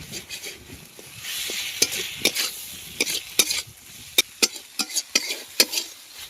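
Chandramukhi potatoes sauté in a spice masala in a pan, a soft sizzle under repeated scraping and clattering stirs that grow sharper and more rhythmic toward the end.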